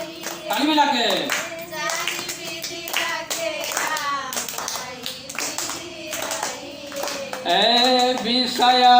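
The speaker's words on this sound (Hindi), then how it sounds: "ताली मिला के" Hands clap in rhythm along to a Hindi devotional Sitaram chant, with voices singing over the steady claps.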